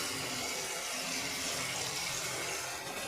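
Water pours steadily and close into spice masala in a cooking pan while making a Bengali cauliflower dish, a continuous splashing rush with no talk.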